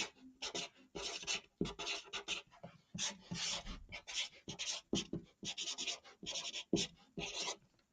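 A pen writes on a paper booklet in short scratchy bursts, close and fairly faint, a rhythmic series of strokes and pauses with no talking.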